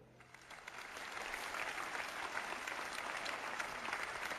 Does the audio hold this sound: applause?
yes